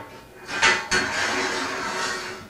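A wooden kitchen sliding door's hanger is slid onto its bolt in a workshop, giving two sharp metallic clacks in quick succession followed by a softer scraping slide.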